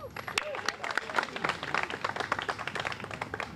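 A crowd at a playground ribbon cutting in Boston claps for the mayor, with scattered, uneven applause that is moderately close and mixed with some voices.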